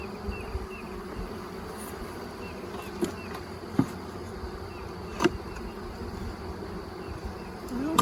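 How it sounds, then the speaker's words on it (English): Honey bees on a hive frame make a dense, continuous buzzing close by, with a few sharp knocks and clicks from the frame being handled. "Now this frame appears to have bees on both sides."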